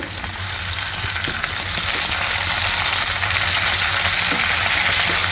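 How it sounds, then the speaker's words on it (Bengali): A hilsa fish head drops into hot oil in a pan and fries with a loud, steady, dense sizzle that holds without a break, close up and with no voices. "মাছটা দিয়ে দিচ্ছি তেলের মধ্যে।"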